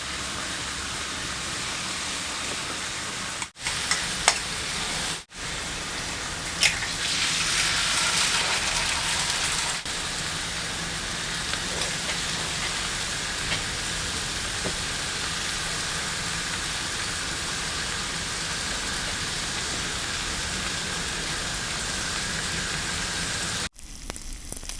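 Free-range egg and bacon sizzling on a Blackstone 22 inch griddle, a loud steady crackling hiss like rain that runs almost unbroken for the whole stretch, with brief dips and no talk.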